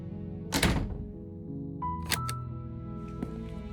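A basement door in the video game Slay the Princess gives a heavy thunk, followed by mechanical clicks, a creaking tone and a few softer knocks, close and clear against a quiet backdrop of music.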